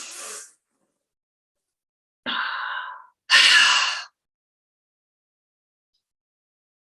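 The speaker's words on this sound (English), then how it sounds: "Make noise when you breathe." Three loud, close breaths stand alone against silence: a short exhale, then a two-second breath, then a stronger, forceful exhale.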